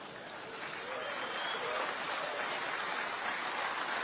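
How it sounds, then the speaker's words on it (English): A congregation at a sermon breaks into dense, even clapping that swells slightly after the first second and holds steady, a continuous wash with no voices above it. "And I don't know why you're clapping."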